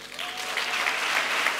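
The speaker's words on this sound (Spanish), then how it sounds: "Ahora sí, demos un fuerte aplauso a algunos de los amigos que lo arropan esta noche tan especial." Steady audience applause fills a gala evening hall, a dense, continuous clapping from a large crowd throughout, with no speech over it.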